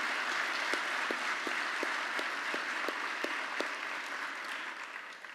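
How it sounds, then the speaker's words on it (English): A university audience at a State of the University address gives a big, continuous round of applause, with a few sharper individual claps near the front that gradually taper off. "Let's thank these faculty, staff, administrators, and students with a big round of applause."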